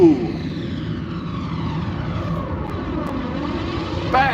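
An airplane flyby preset on a Universal Audio Anthem synth: a loud, sustained propeller-aircraft roar with sweeping, whooshing tones that swell again at the end, heard alone.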